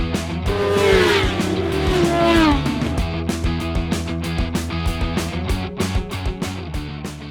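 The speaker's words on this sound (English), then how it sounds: "my bike is a Kawasaki ER6" A Kawasaki ER6 motorcycle on a track day at Oulton Park: an engine note rises and falls through sweeping revs early on, then settles into a rhythmic, pulsing drone, loud and fairly close.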